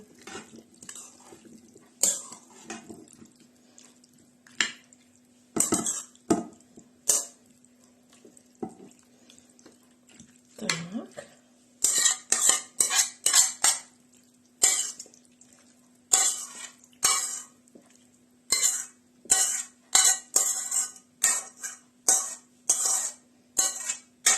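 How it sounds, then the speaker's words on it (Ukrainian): A spoon taps and scrapes as minced meat with potatoes is spooned into a baking dish for moussaka; sparse knocks at first, then a quick run of close, clattering scoops. "Тепер беремо форму і викладаємо фарш із картоплею."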